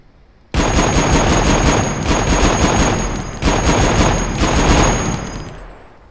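Sustained loud automatic gunfire from the survival game Mist Survival, rapid shots rattling continuously for about six seconds with a brief dip midway, close and dominant with no talk.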